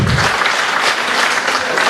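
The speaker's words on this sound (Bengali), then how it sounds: "এত সুন্দর হোস্টিং করার জন্য তাপসদার জন্য একটা হাততালি হতে পারে তো?" A hall audience at a training session claps for the host, a steady round of applause lasting a couple of seconds with no voices over it.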